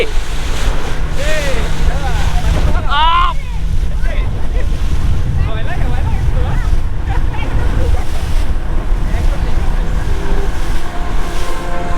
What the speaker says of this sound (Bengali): ফাইনালি আমরা বোট রাইডে উঠছি